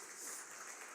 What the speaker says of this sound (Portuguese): Vamos aplaudir a todos.